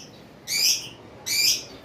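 A pair of cockatiels in a breeding farm gives two loud, close, shrill screeching calls, each lasting about a quarter second, separated by a short quiet gap.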